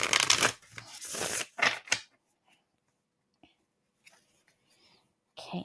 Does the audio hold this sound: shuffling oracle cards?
yes